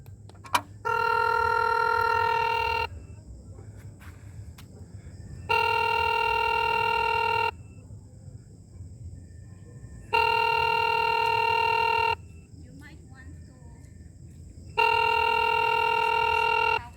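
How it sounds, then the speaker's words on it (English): A phone rings after a doorbell camera button is pressed: four separate two-second bursts of bright electronic ringing with short silent gaps between them, clear and alone. "So that's how it rings on Joy's phone"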